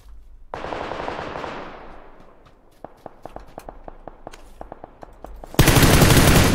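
Gunfire in the battle-royale game PUBG: a rapid series of sharp, distinct shots cracking out at an irregular rhythm, starting faint and building, followed by a loud burst of dense noise at the end.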